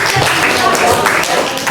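A classroom group claps for a student during an open class lesson, a short burst of applause close by with voices mixed in.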